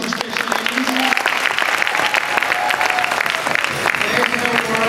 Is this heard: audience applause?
yes